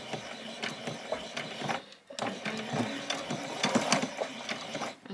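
A sewing machine stitches a doll's dress in a steady mechanical whirring and clicking run, a brief pause near the middle, then resumes, close and alone.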